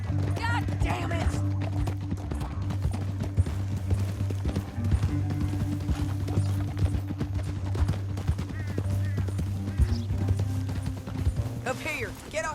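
Horses gallop with steady clip-clop hoofbeats through a canyon in the video game Red Dead Redemption 2, close and continuous under a low musical drone, with a brief whinny and voices talking over the ride.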